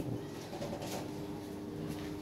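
Soft, low Lahori pigeon coos murmur quietly against a faint background hum.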